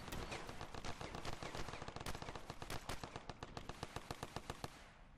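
Rapid automatic gunfire in the battlefield shooter game RavenField, a dense unbroken burst of close, sharp shots lasting several seconds with no talk over it.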